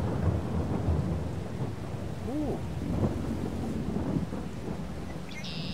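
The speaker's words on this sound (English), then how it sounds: "Thundering, too." Thunder and rain in a farming video game set in the western wilds: a steady hiss of rain with low rolling rumbles throughout, and a person briefly exclaims over it.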